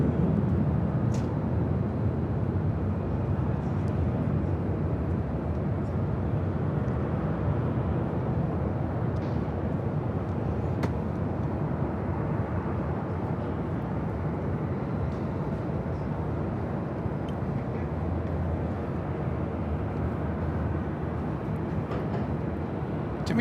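A Turkish Airlines Boeing 777-300ER takes off from LAX bound for Istanbul, a steady, broad jet-engine roar sustained throughout at moderate distance, without talk.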